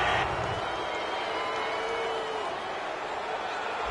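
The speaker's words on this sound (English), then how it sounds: "Oh, this crowd does not like that call." A stadium crowd at an Arizona Cardinals vs San Francisco 49ers football game reacts to a roughing-the-passer personal foul call, a steady, dense roar of voices sustained throughout without distinct peaks.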